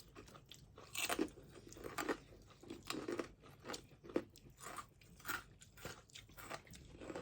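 Spicy papaya salad with fermented fish is chewed close to the mic with quiet, crisp crunching bites in an irregular rhythm, each crunch soft and brief.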